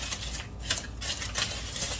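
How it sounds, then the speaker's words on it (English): A whisk clicks and scrapes against a bowl while mixing salt into brown sugar, giving quick, soft rhythmic taps close by. "I'm going to give that a good whisk"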